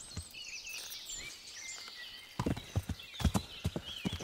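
Horse hooves clip-clopping in a steady trotting rhythm as Pebbles is ridden in Kingdom Come: Deliverance, starting after a quiet stretch of birdsong and growing loud and close, with an occasional faint whinny.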